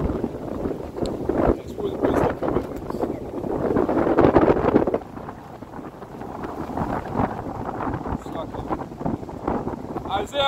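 Wind blows outdoors and buffets the microphone in uneven rushing gusts, strongest around the middle, while someone talks throughout.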